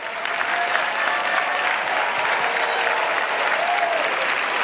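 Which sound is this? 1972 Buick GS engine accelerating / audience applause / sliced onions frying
audience applause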